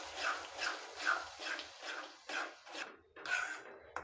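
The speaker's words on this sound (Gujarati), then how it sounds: "અને સારી રીતે મિક્સ કરી લેશું।" Kathiawadi-style okra curry is mixed with a yogurt masala paste in a steady series of rhythmic, wet scraping strokes, about eight, close and fairly clear, with no talking.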